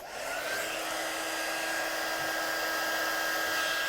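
A heat gun blows hot air to heat-set stamped ink, starting within the first half second and then holding a steady, loud whooshing roar with a faint whine in it.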